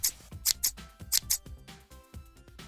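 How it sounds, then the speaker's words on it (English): Scissors cut small pieces of bubble film in a quick series of crisp snips, some sharper than others, close and fairly quiet with no voices. "Then I cut some of the bubble film to fit inside the locket"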